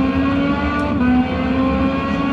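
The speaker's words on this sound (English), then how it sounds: "So we're going to get ready to start a fast lap of this Hungary Ring circuit." A race car on a fast lap of the Hungaroring circuit gives a steady, close-up high-revving engine whine with slight pitch shifts and a brief dip partway through.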